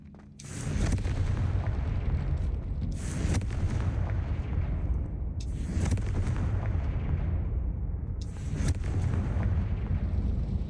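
Repeated Confringo blasting-spell explosions in Hogwarts Legacy roar as loud, heavy booms with rumbling low end, several bursts in a row filling the scene with sustained thunderous blasts.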